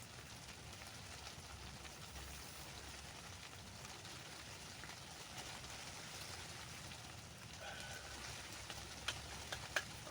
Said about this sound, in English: I love the sound of the rain on the roof.